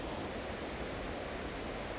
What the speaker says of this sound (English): There's so much water just pouring over these rocks and down trees